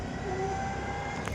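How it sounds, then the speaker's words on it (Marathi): Helicopter taking off, a steady, loud whine and roar of engine and rotors holding even throughout with no voices over it. "आता हेलिकॉप्टर टेक ऑफ करणार आहे"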